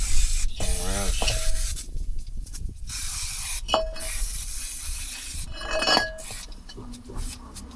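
Brake cleaner sprayed onto a car's drum brake in short hissing bursts, with metallic clinks and scraping from the brake parts between sprays, close by and fairly loud.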